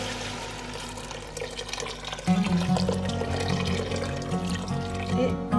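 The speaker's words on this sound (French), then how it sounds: "Et maintenant on va rajouter de l'eau bouillante" Boiling water pours steadily into a cooking pot of lentils, a continuous close splashing and filling sound that grows fuller and louder partway through, with no speech.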